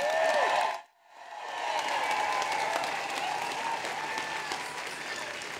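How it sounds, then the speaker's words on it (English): Crowd applause at an outdoor unveiling ceremony for the Emmeline Pankhurst statue, loud steady clapping that cuts out briefly near the start, then resumes and continues evenly with some voices mixed in. "Let's give her a very warm round of applause, Fatima Shahid."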